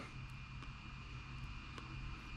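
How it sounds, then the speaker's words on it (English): Aircraft engine spinning up to maximum motoring speed during start, before fuel is introduced: a steady, continuous broadband whine and rumble with a constant tonal hum, fairly faint and unchanging over the short stretch. "it's going to go ahead and ramp up to max motoring speed"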